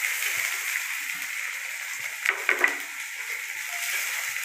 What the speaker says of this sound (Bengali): তো তেল একদম গরম হয়ে গেছে, তো এবার পেঁয়াজ দেওয়া হচ্ছে।